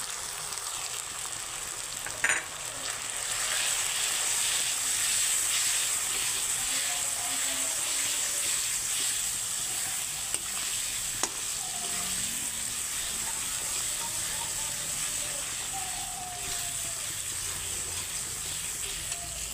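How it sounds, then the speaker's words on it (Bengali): Chicken curry with potatoes, turmeric, chili, cumin and coriander powders and salt sizzles steadily as it sautés in a pan, a continuous close crackling hiss with a couple of sharp clinks of a spoon. "এখন আমি 5 মিনিট কষিয়ে নেব।"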